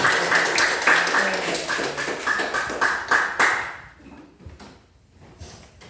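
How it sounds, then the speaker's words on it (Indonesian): Primary schoolchildren in a science class on magnets clap together, a quick run of sharp, fairly close claps that thins out and stops after a few seconds, with a few scattered taps at the end. "Sekarang kita sama-sama tepuk tangan"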